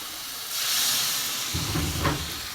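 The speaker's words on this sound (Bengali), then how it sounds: "এবার আমি কিছুটা জল দিয়ে দেবো।" Water poured into a hot pan of soybean curry sets off a loud steamy hiss that swells and holds, followed by a lower bubbling sizzle near the end, with no talk.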